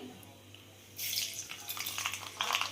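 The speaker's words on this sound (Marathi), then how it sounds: "आता या तेलात फोडणी घालायची तर फोडणी घालण्यासाठी नेहमीप्रमाणे तेल गरम झाल्यानंतर जिरे मोहरी" Cumin and mustard seeds tempering in hot oil for a Marathi wild-greens dish, starting as a sudden crackling sizzle about a second in, with scattered pops and spits close by and no talk.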